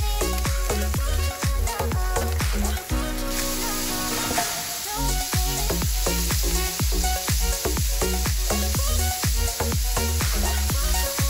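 Jerk shrimp fry in a hot pan with a loud, dense sizzle and crackle. Frequent utensil clacks sound close up, and there is a short lull partway through.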